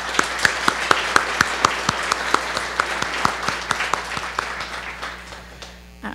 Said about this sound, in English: Let's give a round of applause to everyone here today